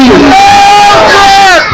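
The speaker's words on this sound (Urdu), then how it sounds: "مل کے نعرے لگائیں. نعرہ تکبیر" A crowd at a religious gathering honoring Bibi Fatima Zahra chants the slogan Nara-e-Takbeer as one long, loud, drawn-out call, sustained almost to the end before it trails off.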